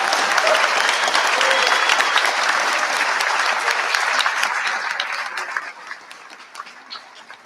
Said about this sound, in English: let's have a final round of applause for all of our graduates